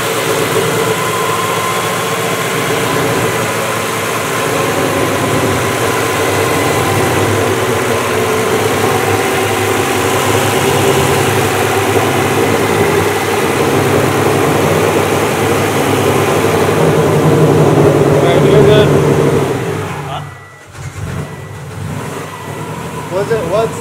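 A big-turbo Subaru STi engine with new headers and oil pan holds a steady 2,000 RPM, a loud, constant rumbling drone that dips briefly near the end.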